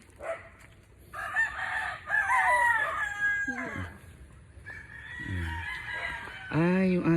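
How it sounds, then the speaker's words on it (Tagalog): Roosters at a game farm in the hills of Antipolo crow several times in overlapping, drawn-out calls, with hens clucking in the background, all close by and prominent. "Dami pa mga manok dito."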